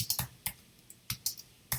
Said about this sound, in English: please excuse my typing